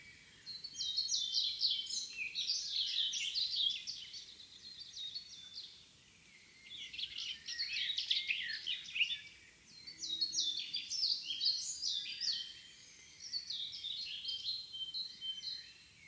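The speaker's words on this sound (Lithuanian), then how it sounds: "Musinukė labai viską permuša" A flycatcher sings loudly outdoors in about four bursts of bright, twittering high phrases separated by short pauses. The bird stands out clearly over a quiet background.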